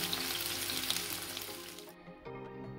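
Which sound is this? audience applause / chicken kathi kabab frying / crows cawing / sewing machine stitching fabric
chicken kathi kabab frying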